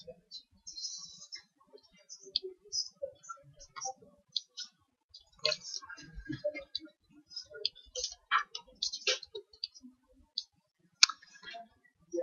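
A computer mouse clicks while someone works in 3DS Max. The clicks are short and sharp, scattered irregularly across the stretch with quiet gaps between them.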